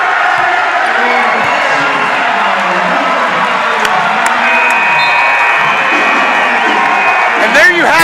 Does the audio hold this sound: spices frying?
no